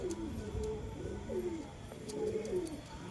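Soft, repeated cooing of pigeons, rising and falling in gentle phrases, fairly close with faint background noise.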